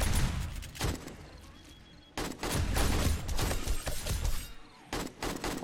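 Dense gunfire from the 7 Days to Die video game on a Darkness Falls horde night, with rapid shots blurring into loud, sustained bursts that break off briefly and then resume.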